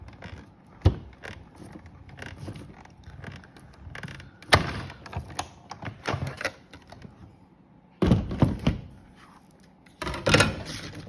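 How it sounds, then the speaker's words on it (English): Paper plate number 4 for a sand dollar craft goes through a cut and emboss machine. Close, irregular mechanical clicks, thumps and cranking rattles are heard, louder bursts near the end, with no talking. "I'm going to take plate number 4, and I'm going to run it through my cut and emboss machine"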